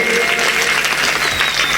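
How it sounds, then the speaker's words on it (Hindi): Audience applause at an Ayodhya katha gathering, with dense clapping held at a steady level for the whole short stretch and no one speaking over it. "भैया जी के लिए जोरदार ताली स्वागत"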